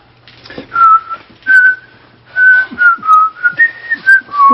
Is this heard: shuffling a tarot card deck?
no